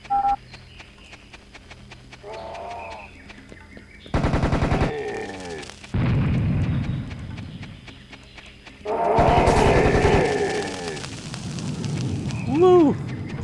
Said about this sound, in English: Get out your sniper gun so you don't keep getting plinked all the time.